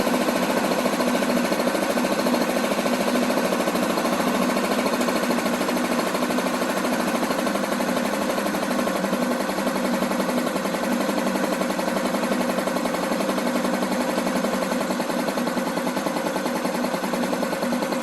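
A moped engine idles steadily while its idle is adjusted, giving a continuous rapid buzzing putter, close and loud, with no change in level across the whole stretch and no talking.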